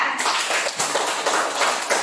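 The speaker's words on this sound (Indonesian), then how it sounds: "Ya, tepuk tangan untuk Aira." A classroom of students applauds a pupil with a short burst of dense, close clapping that lasts about two seconds.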